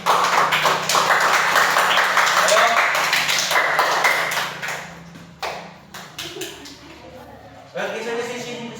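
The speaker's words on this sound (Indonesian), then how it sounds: "tepuk tangan" Students in a classroom applaud with dense, loud clapping for several seconds, which thins into scattered claps and voices.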